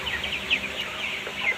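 Broiler chickens in a shed bedded with rice husk cluck and chirp in a busy, continuous chorus at moderate loudness, several birds calling over one another with no talking.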